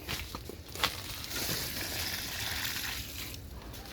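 Water is poured by the scoop onto mulberry plants outdoors, giving a steady, close splashing wash that rises and falls with a few soft knocks.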